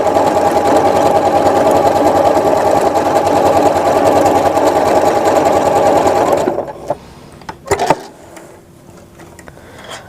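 Sewing machine stitching built-in decorative heart stitches through fabric, a loud steady rapid mechanical whir for about six seconds, then it stops, followed by a few sharp clicks and handling knocks.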